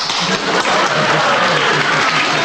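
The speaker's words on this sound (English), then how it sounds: "Derek Nimmo led the applause then." Studio audience applause closing a radio panel show, a steady loud wash of clapping throughout with no pauses.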